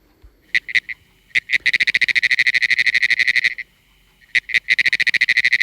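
A Cope's gray tree frog calls nearby: loud, fast buzzy trills made of rapid pulses, a few short bursts followed by two longer trills separated by a brief pause.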